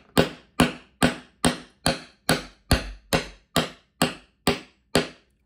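About a dozen sharp, evenly spaced taps driving parts into holes in a Cyclone pinball machine playfield, each a crisp close knock with a quick decay, steady rhythm roughly twice per second.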